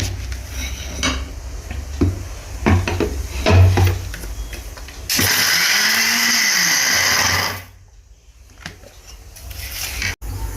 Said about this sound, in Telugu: ఈ రెండు కేజీల పండు మిర్చిని కాస్త కాస్త ఉప్పుని యాడ్ చేస్తూ మిక్సీలో మొత్తం కచ్చపచ్చ కచ్చపచ్చగా